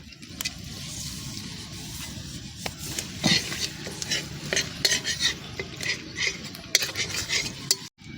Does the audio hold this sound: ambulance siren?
no